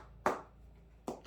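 Reinforced leather inside a Rawlings pitcher's glove gives two sharp, close taps a little under a second apart, with a third starting at the end. The taps are short and dry over a quiet background.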